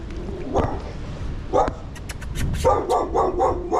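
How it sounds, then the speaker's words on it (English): A dog barks close by, a few single barks at first, then a quicker run of yappy barks toward the end. "I don't know where that dog is."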